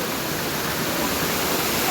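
A waterfall roars as a steady, dense wash of rushing water, loud and close, filling the whole clip without a break.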